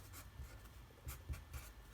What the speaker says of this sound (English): So I'll write it over here.